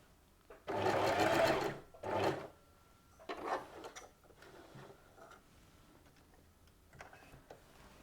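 A domestic sewing machine stitches in short bursts as fabric is pivoted through right-angle corners. A long run is followed by briefer stop-start spurts and quiet pauses, all fairly soft and close, with no voices.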